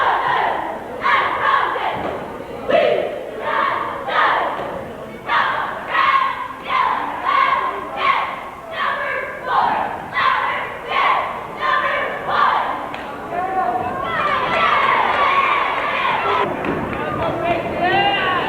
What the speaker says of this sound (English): a very large cheerleading squad of Northern Adirondack making some noise during that timeout